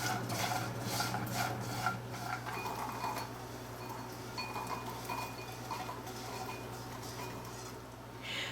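Food toasting in a pan is stirred around with light, irregular scraping and clinking over a low steady hum, faint and close, with no voices.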